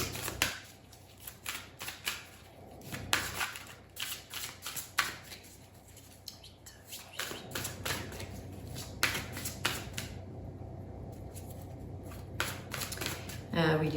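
Oracle cards being shuffled and drawn by hand: repeated quick papery riffles and flicks in irregular bursts, close and fairly soft, under a speaking voice.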